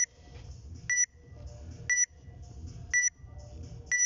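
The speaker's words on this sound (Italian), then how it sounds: "Quando vuoi faccio partire il timer." Workout interval timer at a CrossFit-style competition workout, sounding a sharp electronic double-tone beep about once per second, four beeps in a steady countdown rhythm over low background room rumble.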